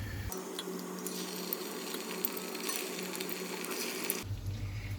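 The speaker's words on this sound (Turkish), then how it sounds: "Şimdi köftelerim de kızarıyor." Steady sizzling of meatballs frying in hot oil, a continuous crackling hiss with faint scattered pops.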